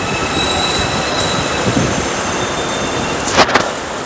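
A train pulling into a railway station, with a constant loud rolling rumble, high-pitched wheel squeal running across the whole stretch and a couple of sharp metallic clanks near the end.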